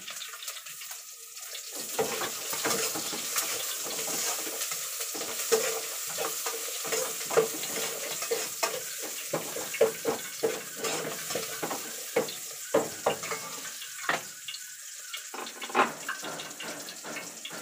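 Onion sizzling in hot oil in a pan, a steady frying hiss throughout with repeated scraping and stirring clicks from a utensil, close and fairly loud, no voices.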